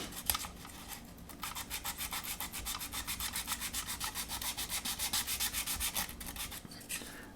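Sanding the painted body of an MPC 1/24 scale General Lee model car with 600 grit sandpaper: a steady, close back-and-forth rasping in quick regular strokes, running continuously for several seconds before easing off.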